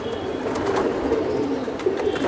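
Giribaj racing pigeons coo softly and continuously, several low throaty calls overlapping close by with no talking.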